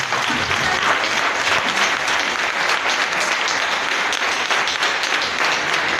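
A church congregation at an evangelical service applauds steadily, dense clapping from many hands filling the room at an even, loud level throughout.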